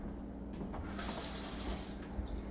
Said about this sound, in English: Okay, so I drain it and I'll get more water again.